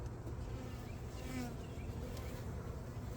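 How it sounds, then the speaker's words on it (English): Honeybees and drones buzz inside a hive box about half full of honey, a dense, steady hum that stays close and unbroken throughout. "There's bees in this box"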